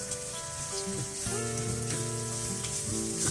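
Lemon and shrimp being stirred into a coconut-milk curry in a pan, a steady bubbling sizzle with a few soft stirring knocks, mixed under melodic background music.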